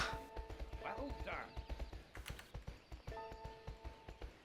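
Hooves trot in a steady, rhythmic clip-clop in the horse-riding video game My Horse & Me 2. The sound is faint and quiet, with brief tonal chimes and some voice-like sounds mixed in.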